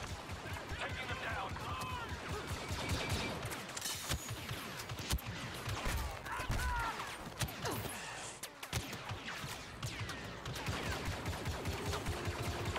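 Blaster gunfire rattles in rapid bursts during a Star Wars Battlefront II campaign firefight, steady volleys with sharp cracks and explosions running throughout, with voices talking over the shooting.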